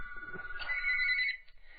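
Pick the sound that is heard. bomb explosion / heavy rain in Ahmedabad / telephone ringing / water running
telephone ringing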